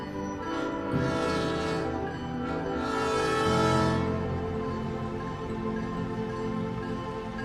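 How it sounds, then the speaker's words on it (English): Sugar cane trains run through cane fields toward a sugar factory, heard as sustained horn-like tones with bursts of steam-like hiss. The sound is muffled and distant, like an old recording. "the sugar train goes on its way to the factory"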